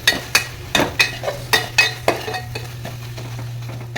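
A metal spoon clinks and scrapes against a pan as ginger garlic paste is stirred over a low flame, about a dozen sharp taps in an uneven rhythm over a steady low hum and faint sizzle.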